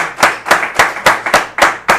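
Slow, evenly spaced claps, about seven over two seconds, bright and fairly close, more like a small group clapping in unison than scattered audience applause.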